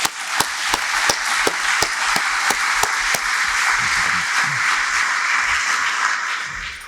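Audience at a Sikh Soldier film screening breaks into sustained applause, a steady dense clapping wash with a few sharper nearby claps standing out early on.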